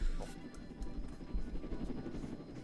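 Helicopter in the Roblox game Jailbreak, a steady low rotor thrum and engine drone running throughout at moderate level with no talk over it.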